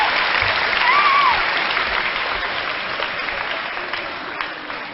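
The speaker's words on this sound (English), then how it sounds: "Give him a round of applause" An audience gives steady, dense applause that fills the room throughout, loud and continuous, slowly easing off toward the end.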